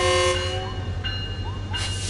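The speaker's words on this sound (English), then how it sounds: "It's a very noisy train" Noisy train in Train Sim World 4 on the Antelope Valley line, a loud steady rumble with hissing and tonal whines, plus brief sliding pitch chirps, with no talking.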